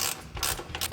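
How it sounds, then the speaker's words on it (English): A 3/8 ratchet with a 13 millimeter socket tightens a bolt on a Bronco step bar bracket, giving a few quick, close, faint clicking strokes. "I'm going to take my 13 millimeter or my 3/8 ratchet, tighten it up"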